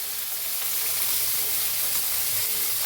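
Chopped onion dropped into hot oil with cumin seeds for a beans sabzi, giving a steady, close, loud sizzle and hiss that runs unbroken without any voice.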